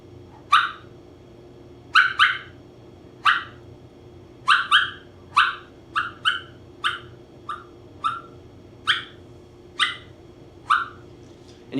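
A mouth call imitates a turkey's clucks, producing a string of short, sharp, separate clucks spaced irregularly over several seconds, clear and close against a quiet background.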